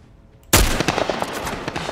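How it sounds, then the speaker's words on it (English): Gunshots in The Last of Us video game: a sudden loud blast followed by a rapid stutter of further shots that trail off in a rough, sustained decay. "Ellie, use your gun, please."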